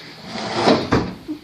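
A metal toolbox drawer on rollers slides open or shut in a workshop, two quick close scraping clunks about a quarter second apart and then a small soft knock, with no one talking.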